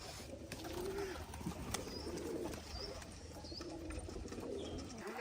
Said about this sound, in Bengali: কবুতর যেগুলো খাচ্ছে খেয়ে খেয়ে বেড়াচ্ছে।